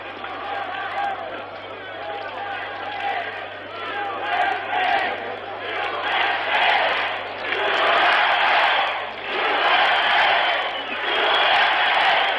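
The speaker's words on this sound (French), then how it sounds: "Le coach américain applaudit lui-même les spectateurs qui applaudissent son équipe." Olympic basketball crowd in a packed arena during the USSR versus USA game, sustained loud roar and applause swelling and dipping over several seconds with a steady low hum underneath, no clear talk standing out.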